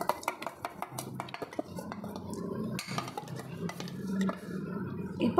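Roasted semolina, cashews, raisins and powdered sugar stirred in a pan for rawa laddu, with a rapid string of metal spoon scrapes and clinks against the pan over a soft gritty rustle.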